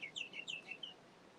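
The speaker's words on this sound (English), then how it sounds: "It's the Indian myna, or I think it's also called a common myna." A feral Indian myna, also known as the common myna, gives a quick run of bright chirping calls, several short notes close together, faint and alone.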